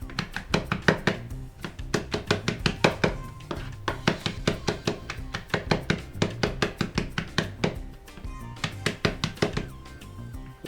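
A kitchen knife chopping garlic on a cutting board: quick, steady rhythmic thuds with a brief pause near the end, close and clear with no talking.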